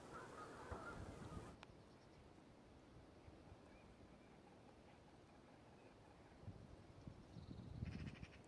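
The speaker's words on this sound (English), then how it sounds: "is geese talking away and birds chirping" Geese honk and call at an RSPB reserve in the UK, faint and distant across a quiet, breezy open landscape, with soft low rumble and a slightly livelier burst of calls toward the end.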